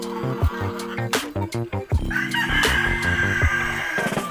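A rooster crows loudly nearby, preceded by several clucks and throaty calls, the crow rising into a long drawn-out cry.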